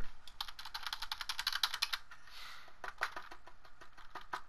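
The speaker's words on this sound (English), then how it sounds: "If my keyboard's too loud, let me know," Rapid keystrokes rattle on a computer keyboard close to the microphone, a dense burst followed by a short pause and then slower, separated key presses, with no one speaking.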